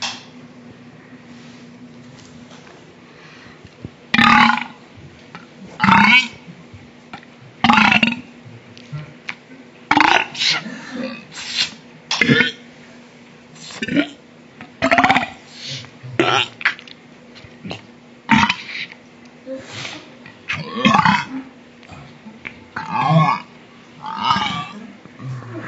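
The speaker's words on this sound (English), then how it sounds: "Today I'm gonna be doing burps" A kid burps over and over, slowed down in slow motion, with about a dozen loud, drawn-out belches spaced every couple of seconds, some with a croaky, throaty tail, and quiet gaps between them.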